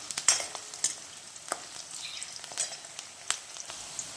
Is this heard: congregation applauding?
no